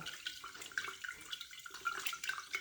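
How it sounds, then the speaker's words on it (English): Rinse water draining off soaked seeds in a kitchen sink, a soft trickling and splashing pour with faint drips, close and fairly quiet, no voices. "And then drain out all the water."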